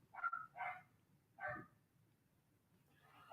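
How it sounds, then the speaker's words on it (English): Dogs barking in the background, three separate barks in the first second and a half, then a faint yip near the end, set against low steady room hum. "I'm gonna get to stop the dogs from barking. I know y'all hearing that in the background."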